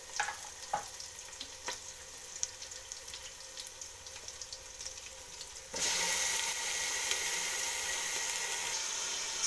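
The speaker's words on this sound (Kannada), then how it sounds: "ಚಿಕನ್ ಹಾಕ್ಕೊಂಡು ಮಿಕ್ಸ್ ಮಾಡ್ಕೊಂಡಿದ್ದೀನಿ" Chicken frying with onions in an oiled pan gives a close, steady sizzle with scattered stirring clicks, and partway through the sizzle abruptly grows louder and brighter, holding until the end with no talking.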